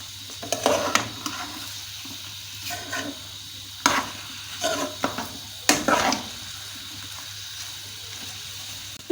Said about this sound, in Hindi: इनको हम अच्छी तरह से 5 मिनट भून लेंगे